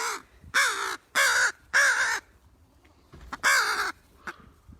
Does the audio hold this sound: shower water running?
no